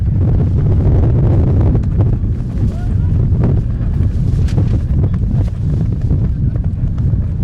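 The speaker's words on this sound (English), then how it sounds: "As the wind picks up here on a beautiful day in Austin, Texas" Gusting wind buffets the microphone at an outdoor rugby match in Austin, Texas, producing a loud continuous low rumble that fills the whole stretch, with a commentator talking underneath.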